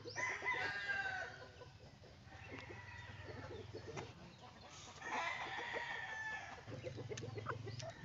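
Chickens on a pasture farm clucking and crowing, with bursts of rooster calls and hen chatter rising and falling over about eight seconds, fairly faint against a quiet outdoor background.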